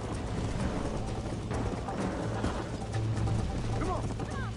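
Horse hooves galloping in Red Dead Redemption during a race, a steady dense rush of hoofbeats and motion noise mixed with game sounds and faint voices throughout.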